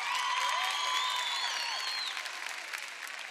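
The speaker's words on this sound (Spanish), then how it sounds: "Un aplauso para él." Applause and cheering from the audience at a drag gala in Corralejo, a dense steady wash of clapping with whoops and whistles on top that fades slightly toward the end.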